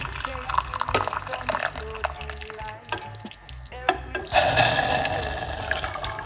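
A cup of hot water pours and splashes into a pot, with some drips and clinks partway through, then a steady, louder stream near the end.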